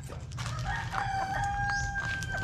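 Pullets crowing nearby, a clear drawn-out rising call with clucks around it, loud and close in a farm setting.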